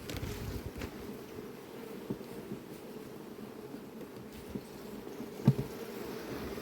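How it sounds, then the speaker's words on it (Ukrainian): A low, steady drone of honeybees flying around a beehive carries on under wind noise, with a few soft knocks and one brief louder tap toward the end. "Показую, що є бджола, блін."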